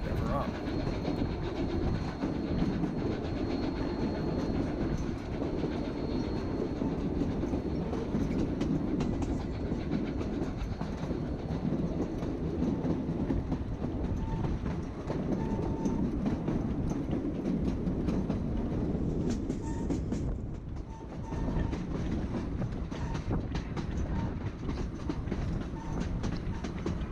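A Cumbres & Toltec narrow gauge train rolls along its rails, a steady loud rumble of wheels and cars with faint clickety-clack continuing throughout, briefly dipping in the middle before resuming.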